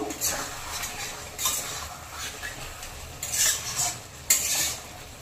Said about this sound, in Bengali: একটু ভালো করে নেড়ে দেব।